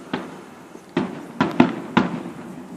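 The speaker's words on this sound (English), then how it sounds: "Fireworks." Fireworks burst for an early Fourth of July celebration, five sharp booming pops at uneven intervals within about three seconds, with the middle ones closer together and louder, each followed by a short rumbling tail.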